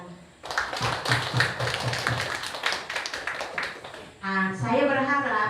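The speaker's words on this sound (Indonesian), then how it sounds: "Tepuk tangan." A burst of hand clapping from the audience at a primary school farewell ceremony for a head teacher rattles for about four seconds before a voice begins speaking.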